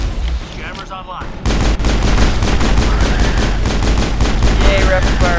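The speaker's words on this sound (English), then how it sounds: "Yay, rapid fire!" Rapid automatic gunfire from Mass Effect breaks out after a short quiet stretch, a loud dense burst that stays steady for several seconds, with a voice briefly under it.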